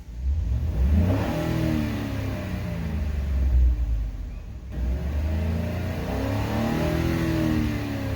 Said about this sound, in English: Alright, let's go ahead and rev up this engine.